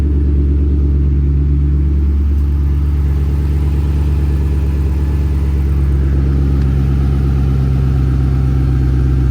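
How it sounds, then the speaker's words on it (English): A Ford Mustang engine idles just after a cold start, giving a steady, fairly quiet low rumble that stays even throughout with no talking. "that was a very quiet cold start"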